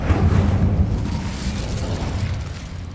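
The Incendio fire spell is cast in Hogwarts Legacy, a loud, rumbling whoosh with a burst of roaring flame at the start that sustains and slowly fades over about three seconds.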